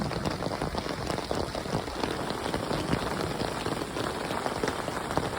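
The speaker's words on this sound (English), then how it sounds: "It is hailing now." Hail pelts a tarp pitched outdoors in the Lost Creek Wilderness during a turn in the weather, a dense, steady patter of hard little strikes that is loud and close, continuous from start to finish with no voices.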